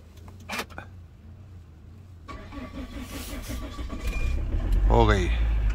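A Mahindra Thar's engine is started at minus 8 degrees in winter Spiti, cranking briefly before catching and settling into a steady idle that rises in loudness, close by.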